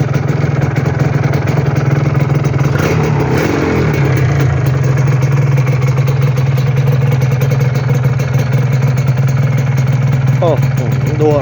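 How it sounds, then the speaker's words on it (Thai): A 1997 Honda Dash motorcycle with a dry, stock engine idles steadily and loudly at close range, a constant low throb with mechanical clatter throughout, while someone talks over it. "สวยเลย เดินเบา นิ่ง ๆให้ดูความร้อน"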